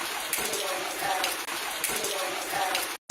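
Light rain falls outside a house in a continuous soft patter and splash, close and steady, briefly cutting out near the end.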